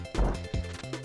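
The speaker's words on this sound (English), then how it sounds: "Speaking of rocks, they fall from the trees apparently." In a video game, a rock falls from a tree and lands with a few heavy, close thuds, two strong impacts followed by a lighter knock.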